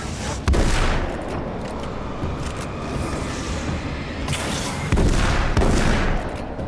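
Heavy shotgun blasts in the action game Alan Wake's American Nightmare, two loud booming shots about four seconds apart over a dense, rumbling game soundscape.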